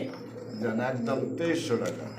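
Domestic pigeons for sale at a market coo softly in low, throaty murmurs, partly masked by someone talking close by.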